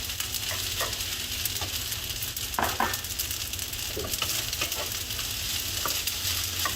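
Egg white hits fried rice in a very hot wok, throwing a loud continuous sizzle with repeated spatula scrapes and tosses against the metal, and no voices over it.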